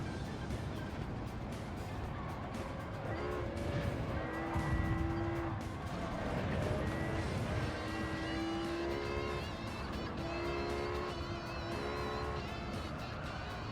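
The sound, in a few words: cars racing in video game Gran Turismo 7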